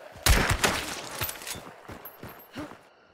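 Gunfire in the video game Hunt: Showdown, a fast burst of sharp, loud shots followed by several fainter, more widely spaced reports that trail off, with no voices over them.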